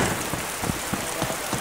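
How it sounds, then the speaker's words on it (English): Steady rain falling at night in the survival game DayZ, a dense hiss of drops with soft irregular patters on surfaces, continuous and fairly close, no voices. "It's really raining."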